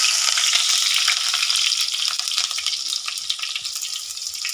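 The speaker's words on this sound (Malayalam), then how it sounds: "ചട്ടിയിൽ ഒഴിച്ചിട്ടുണ്ട് കേട്ടോ ഇതിലേക്ക് ഇതാ ചെറിയ ഉള്ളി അരിഞ്ഞത് ചേർത്ത് കൊടുക്കുകയാണ്" Chopped shallots fry in oil in a pan, giving a loud, steady hiss and crackle that stays even throughout with no voices.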